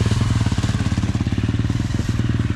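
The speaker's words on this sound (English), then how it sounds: "Big man on a two-wheel machine." A dirt bike engine runs steadily while being ridden, a loud, close, rhythmic motorcycle putter with rough clattering texture and no speech.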